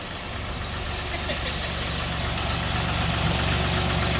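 A Bulat 244 tractor engine idles steadily nearby, a low, even rumble with a faint knocking rhythm throughout.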